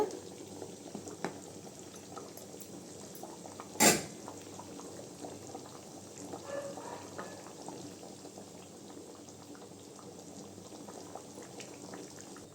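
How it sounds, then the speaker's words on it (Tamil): Quiet, steady bubbling of a catla fish curry simmering in a pot on low heat, with a brief sharp clink partway through. "அடுப்பு கொஞ்சம் சிம்மில் வச்சு நல்லா கொதிக்க வச்சுக்கலாங்க"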